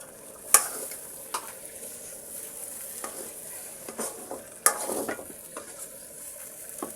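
Bay leaves sizzle softly in a pan of hot oil, with light stirring scrapes and a couple of sharp utensil clinks over a quiet, hissing background.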